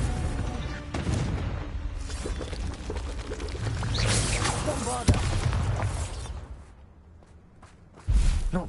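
Confringo spell blasts in a Wizarding World video game, with booming, pouring-rush bursts and whooshes, a sharp impact near the middle and another loud burst at the end, amid dense battle noise.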